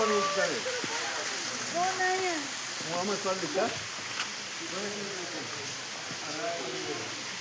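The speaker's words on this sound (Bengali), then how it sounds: "দেখুন গাছের শেকড় রয়েছে, তার মধ্যে দিয়ে জলটা পড়ছে নিচে।" A waterfall in Meghalaya spills through tree roots with a constant broadband rush. A person talks intermittently over the steady roar of the water.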